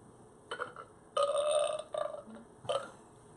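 Burp sounds played from a handheld sound effects machine: several loud, close, croaky belches of varying length, with one long drawn-out burp in the middle and a short one at the end.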